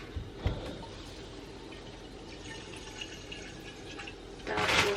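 Water runs from a tap into a small cooking pot in a home kitchen in Canada, a soft trickle with a few drips, swelling into a louder gush near the end.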